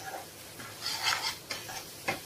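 Grated coconut is stirred and roasted in ghee for tomato barfi. Soft sizzling runs under several distinct scrapes and clinks of a spoon against the pan, with no one speaking.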